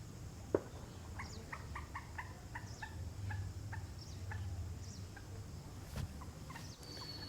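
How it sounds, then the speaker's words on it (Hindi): A common moorhen calls in a rapid series of clucking, chicken-like notes in a rural village, fairly faint against a low background hum. "आवाज़ भी सुन सकते हैं जलमुर्गी की।"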